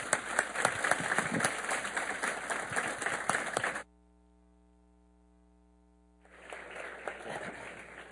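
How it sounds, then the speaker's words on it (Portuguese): Audience applause welcoming Professor Roberto Romano onto a stage at an evening lecture, a dense crowd of clapping that stops abruptly, leaving a few seconds of quiet hum before a softer round of clapping resumes. "Vamos recebê-lo com aplausos de boas-vindas"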